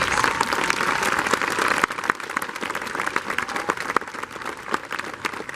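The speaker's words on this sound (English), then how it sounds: "would everybody give them a round of applause, please?" A veterans memorial service audience claps for honored veterans, dense steady applause that drops slightly in intensity partway through and carries on evenly to the end.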